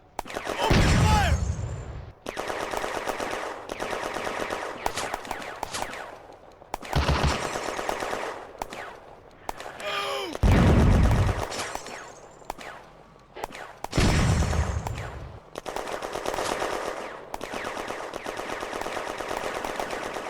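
Gunfire rings out in the video game Firefight, set in a June 1940 battle at Bléneau railway station, with loud bursts of machine-gun and rifle fire alternating with quieter gaps and heavy low booms, some raised voices mixed in.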